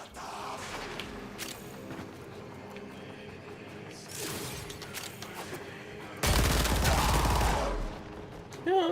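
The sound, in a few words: Incarnon weapon firing like a machine gun, Warframe video game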